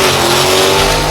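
An 1100 hp Hennessy Trackhawk roars loudly under hard acceleration, a dense, continuous engine and road rumble heard from inside the car with no pause.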